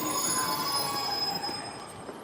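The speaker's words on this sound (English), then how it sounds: "Just waiting for the train." A train arriving at a station in Exeter, England, its wheels giving a loud, sustained metallic squeal with steady rumbling underneath that eases slightly toward the end.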